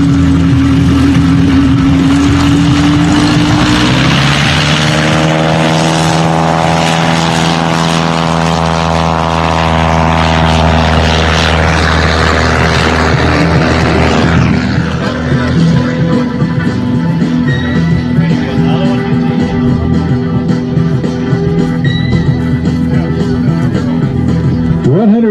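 A Piper Super Cub light aircraft takes off at a short-field contest fly-in, its propeller engine roaring loud and close, the pitch climbing as power comes up, then holding a steady, slightly rougher drone as it moves off.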